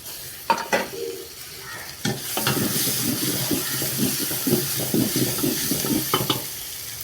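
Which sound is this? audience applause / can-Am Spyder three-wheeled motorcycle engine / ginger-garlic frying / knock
ginger-garlic frying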